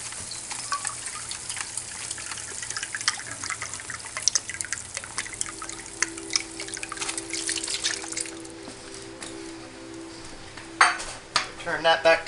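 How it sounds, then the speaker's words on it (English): Beef broth poured into a hot pan for gravy and stirred, with trickling liquid, a busy sizzle and repeated scraping and clinking of a utensil against the pan, louder knocks near the end. "We want to add 1 cup of beef broth to make us a nice gravy."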